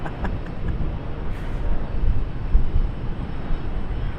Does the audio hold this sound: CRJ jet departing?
yes